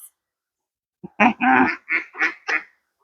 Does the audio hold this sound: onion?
no